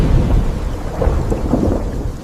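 A thunderstorm with deep, heavy rolling thunder that rumbles continuously under steady rain hiss, loud and with no voices.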